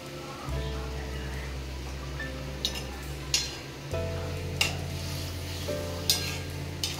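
Fish goes into a pot of boiling curry sauce in a home kitchen, with a steady bubbling sizzle and a few scattered utensil clinks against the pot while someone talks over it.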